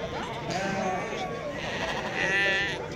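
Sheep bleat repeatedly amid the busy chatter of a Tuesday livestock market in Azrou, Morocco, with several overlapping calls rising loudest near the end over constant crowd voices.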